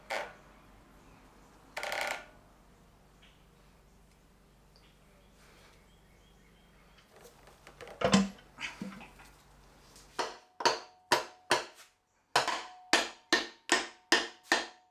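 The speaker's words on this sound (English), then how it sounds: "I had to smack that down with the hammer" A hammer smacks a forklift differential cover down in a run of sharp, close metallic blows, a few scattered hits first, then a rapid series of about ten evenly spaced strikes in two bursts.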